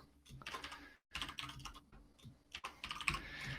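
Someone types on a computer keyboard in quick, irregular bursts of close clicking keystrokes, broken by short pauses.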